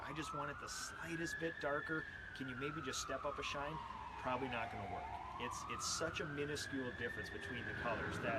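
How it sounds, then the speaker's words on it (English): Emergency vehicle sirens pass outside, a wailing tone sweeping slowly up and down under someone talking indoors about paint colors and sheen. "sorry about the sirens"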